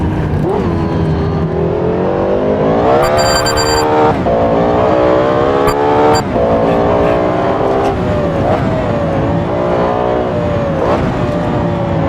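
Lexus LFA engine in Assetto Corsa, a loud, close, high-pitched race-car howl rising and falling through repeated revs and gear changes, with brief sharp shifts and a steady throttle wail.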